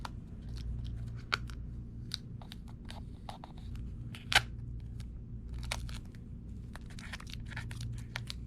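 Vinyl Minneapolis Moline front emblem decal being recut by hand: small, crisp snips and clicks scattered irregularly over a low steady hum, close and fairly quiet.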